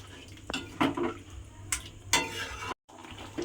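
Potato curry (aloo dum) stirred in a pot, with scattered scrapes and clinks of a spoon against metal coming in short bursts, close by, with no talking.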